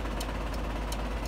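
A car engine runs rough and low with the brake applied, as if close to stalling, a steady close rumble with faint periodic ticking from blinking hazard lights above it and no talk.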